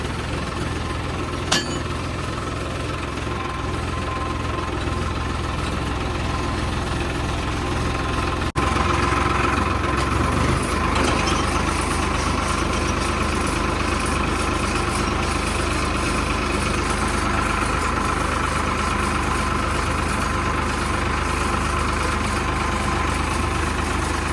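A Farmtrac 45 tractor engine idles close by, a loud, steady rumble that continues unchanged throughout.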